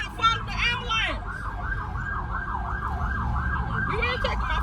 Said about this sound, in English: we gotta follow the ambulance